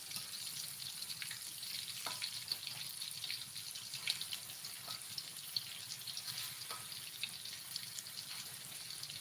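Cut, unseasoned pieces frying in a pan for breakfast, giving a faint, steady sizzling hiss with light crackles throughout.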